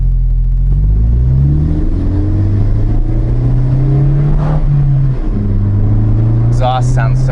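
A tuned Ford Focus ST exhaust pulls hard in second gear around 4,000 rpm, a loud, steady rising drone close by with wind noise underneath.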